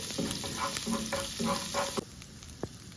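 Minced garlic fries in a spoonful of butter, a steady close sizzle with a louder burst in the first two seconds, then quieter crackling with one sharp pop near the end.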